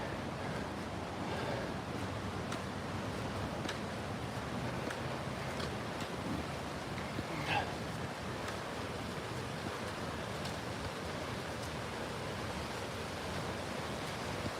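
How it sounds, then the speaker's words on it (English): Water rushes steadily along a creek in Ontario, a constant broadband wash with no clear pauses, heard outdoors for the whole stretch. "Such a beautiful creek."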